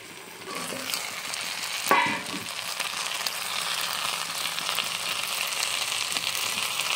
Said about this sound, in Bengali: এবারে তলার পিঠটাও ভালো করে ভেজে নেব